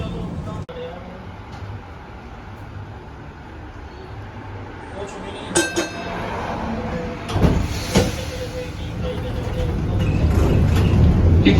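Interior rumble of a moving Bendigo J class tram, low continuous rolling noise with a few clunks and rattles and a brief squeal, building louder toward the end, with faint talk in places.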